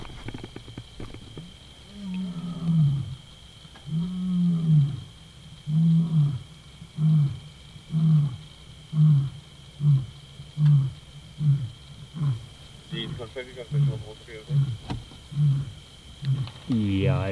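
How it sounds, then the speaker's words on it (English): A young male lion roars in a long bout: a few drawn-out moans, then a rhythmic series of shorter, deep grunts that gradually fade, outdoors at moderate distance. "You can hear the Skorro junior male calling again."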